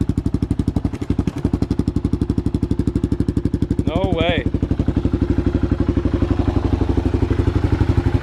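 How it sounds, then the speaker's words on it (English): A 1990 Kawasaki KLR 650 engine idles with a steady, loud thumping pulse and a loose exhaust rattling, while a person briefly speaks over it. "The exhaust is just shaking right off."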